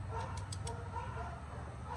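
Cane Corso dogs barking and yipping in the background during feeding, scattered short barks sitting low under a person talking nearby.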